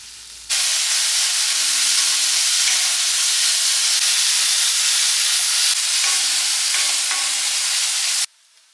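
Green chillies and sliced big onions sauté in hot coconut oil, a loud, steady, close sizzle and hiss that runs unbroken for about eight seconds with occasional faint stirring, then cuts off abruptly.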